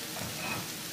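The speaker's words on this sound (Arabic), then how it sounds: "نديها تشويحة خفيفة قوي كده زي ما حضراتكم شايفين الخضار كله اتشوح مع بعضه كده" Onion, tomato and mixed vegetables sautéing in a pan for chicken shawarma, giving a steady, close sizzle and frying hiss throughout with no talking.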